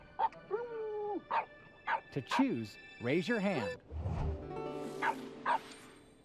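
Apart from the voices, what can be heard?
dog barking in Nat Geo TV video game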